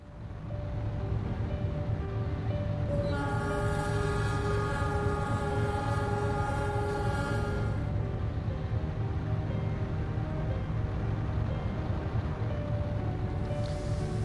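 In the Train Simulator game, the Argo Bromo Anggrek passenger train runs out of Semarang Tawang station with a steady low rumble. A sustained, tonal horn-like sound sounds through the middle of the run.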